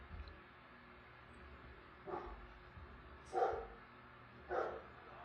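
A neighbor's dog barks in the distance, three separate muffled barks spaced about a second apart over a low steady background hum.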